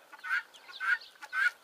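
A turkey hen clucks three times in a soft, evenly spaced rhythm, close by and alone without any talk.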